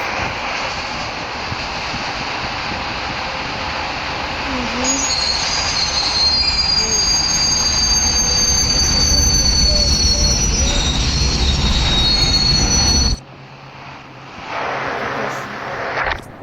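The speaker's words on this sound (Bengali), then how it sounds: "ট্রেন অনেক স্পিডে আসছে।" A train in the Indian Bikes Driving 3D video game thunders past at high speed, with a loud, steady rushing rumble and screeching wheel squeal. It then cuts abruptly to a quieter low drone near the end.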